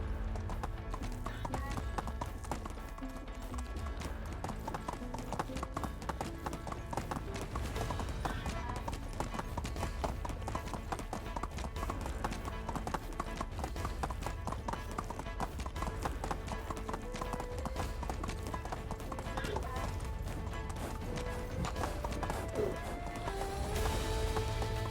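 Steady clip-clop of a donkey's hooves while riding in the medieval video game Medieval Dynasty, continuous and close, mixed under constant game music and ambience, with occasional brief voice sounds.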